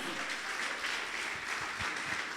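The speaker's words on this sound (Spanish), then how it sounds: "Alguien dele un aplauso al Señor." A congregation claps together in steady, sustained applause that fills the room at a moderate level, with no voices standing out.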